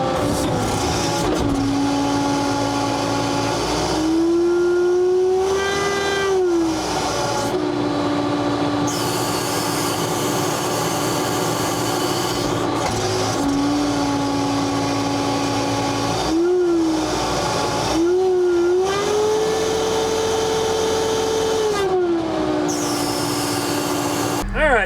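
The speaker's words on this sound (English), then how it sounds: "that's the sound of the hydraulic system winding and going into relief" Excavator hydraulic system straining under load over a steady, loud engine drone; a high whine climbs and holds, then drops away and rises again into relief a second time.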